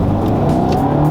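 A naturally aspirated Acura Integra engine revs hard and close, a loud rising mechanical roar that is brief and continuous with no talk over it.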